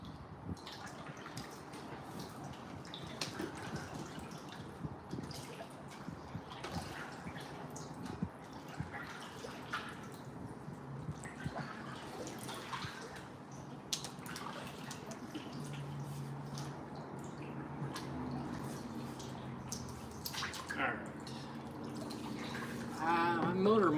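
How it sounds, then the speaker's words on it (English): A fishing boat with rods aboard is paddled through shallow water, soft splashes and drips repeating at an uneven pace, close and moderately quiet against a light outdoor background. "I gotta paddle through here, make sure my rods don't hit"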